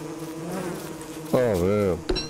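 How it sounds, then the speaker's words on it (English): Bees buzzing in the game Don't Starve Together: a close, droning buzz that wavers in pitch and swells loudly in the second half before cutting off. "I hate those bees."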